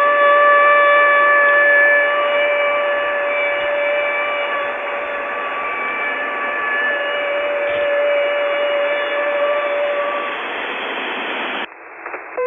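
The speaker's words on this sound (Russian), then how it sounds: "Пример передаваемого сообщения российской военной радиостанции на частоте" A Russian military radio station broadcasts on 6911 kHz, heard as a steady, loud shortwave tone with hissing static that runs unbroken for about twelve seconds before a brief change at the end.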